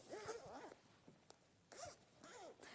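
The zipper on a vintage sewing case is pulled open in a few quick, raspy bursts with brief pauses between them, close and fairly quiet.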